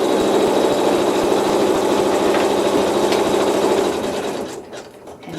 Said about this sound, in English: let's go ahead and do the tack down stitches using that neutral thread